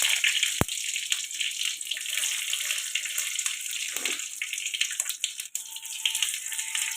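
Dried red chilies drop into hot oil where mustard seeds have already popped, making a continuous bright hiss with scattered sharp crackles, close and fairly loud, without any voices.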